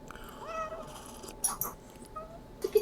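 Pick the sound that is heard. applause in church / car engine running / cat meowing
cat meowing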